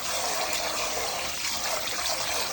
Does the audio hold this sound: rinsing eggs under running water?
yes